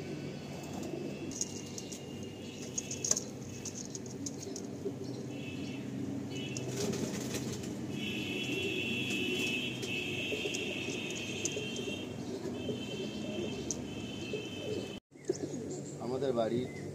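Tiger-line racing pigeons offered for sale coo in a low continuous murmur with scattered chirps and a wing flutter or two, against steady background hum and someone talking.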